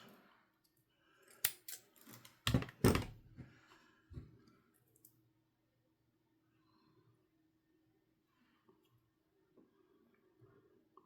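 Scissors snip something off with a quick cluster of close, crisp cuts, followed by faint handling clicks and near silence.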